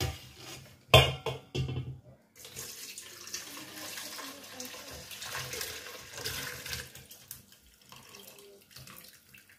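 Cooled zobo (hibiscus drink) pours and splashes steadily into a container nearby, with a sharp clatter near the start and continuous running-water noise throughout.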